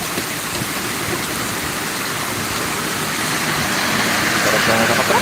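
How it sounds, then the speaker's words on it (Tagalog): Dense, steady hiss of heavy rain pouring down in Ragay, Camarines Sur, during a motorcycle ride, loud and continuous, with a low rumble underneath. "Inabot pa ng ulan."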